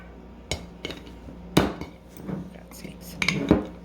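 Metal tool prying at the lid of a home-canned jar, giving a few sharp clinking metallic strikes and scrapes with short pauses, close and moderately loud, ending in a brighter clink.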